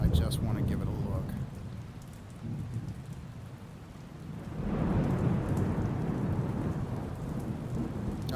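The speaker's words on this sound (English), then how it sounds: "I got quiet for a minute because that rain sound was amazing" Steady rain pours in a VR video game played on an HP Reverb G2 headset, with low thunder rumbling underneath and the downpour swelling louder about halfway through.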